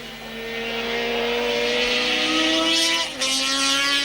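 Superbike racing motorcycles from 1975 accelerating at Brands Hatch, a loud engine whine climbing steadily in pitch, with a brief dip as a gear changes before the climb resumes.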